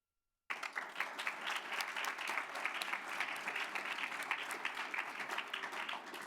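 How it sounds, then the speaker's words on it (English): An audience at a school board meeting applauds for the Hanks High School Silver Knights Marching Band drum majors, a full, steady roar of many clapping hands that starts abruptly and carries on without talk. "please give a round of applause to drum majors Mariana Martinez,"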